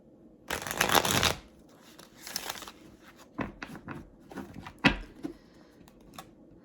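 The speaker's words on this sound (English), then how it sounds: "I like to shuffle with my cards being upright" A Light Seers Tarot Pocket Edition deck is shuffled close by: a long riffling burst, a shorter second one, then scattered snaps and taps of cards being handled.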